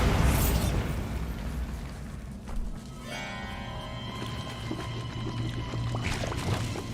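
Bombarda spell explosion in Hogwarts Legacy, an opening loud boom that decays into rumble, followed by crackling debris and a bright shimmering magical ring, with smaller pops near the end.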